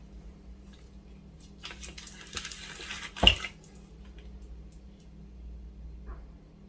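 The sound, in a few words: pouring liquid resin into a pyramid mould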